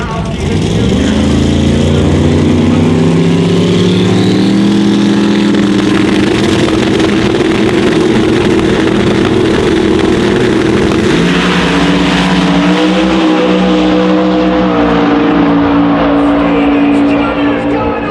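Pro modified drag race cars at the World Series of Pro Modified, engines roaring loud and continuous with shifting pitch as they launch and accelerate, with an announcer talking over the noise.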